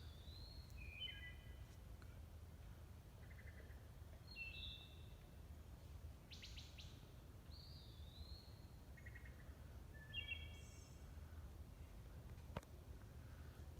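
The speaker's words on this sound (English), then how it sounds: "The song we've just heard is the wood thrush." A wood thrush sings in the distance in a New England river setting, several short fluting phrases separated by pauses, faint over a steady low background hum, with a few soft insect-like chirps mixed in.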